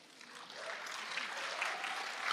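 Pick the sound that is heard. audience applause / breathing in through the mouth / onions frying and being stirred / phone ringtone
audience applause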